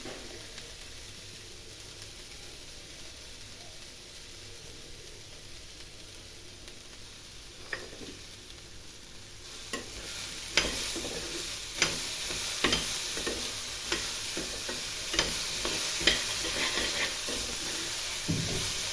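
Snack mix frying in a pan while being stirred, a soft steady sizzle with a run of louder scraping stir strokes in the second half, fairly close and with no talk.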